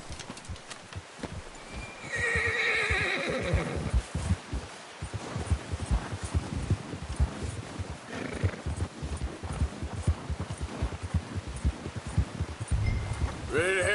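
Horse hooves clip-clop at a steady walking rhythm in a PS4 video game, with a whinny near the start and a voice speaking over part of it.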